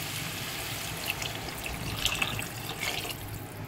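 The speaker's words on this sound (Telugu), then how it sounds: "ఇప్పుడు 1/2 లీటర్ వాటర్ పోస్తున్నాను." Half a litre of water pours into a cooking pan in a steady, soft trickling stream for a few seconds, close by and fairly faint.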